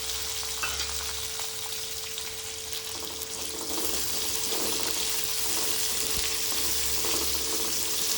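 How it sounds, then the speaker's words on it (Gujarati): Chopped onion sizzles and fries steadily in a hot pan, a continuous close hiss with occasional stirring scrapes, no voices. "ડુંગળીને સાંતળી લેવાની છે."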